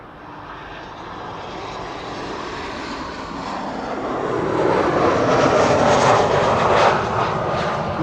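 An airliner comes in to land at Amsterdam Schiphol Airport on a sunny day, its engines a broad steady roar that swells louder over several seconds as it draws near, with no talk.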